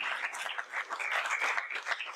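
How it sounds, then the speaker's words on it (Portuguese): Applause from a church congregation at a Christian retreat service, a steady dense patter of many hands clapping, moderately close and sustained without pause. "Vamos aplaudir ao Senhor"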